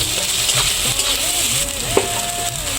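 Chopped tomato stirred into spices frying in a pan for egg tadka, giving a steady close sizzle with the scrape of a spoon throughout.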